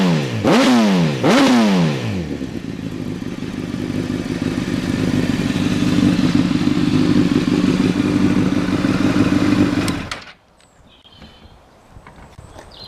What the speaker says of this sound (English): Just give that throttle a blip so you can hear the exhaust. Really nice rasping sound, particularly on the overrun. It sort of burbles and pops.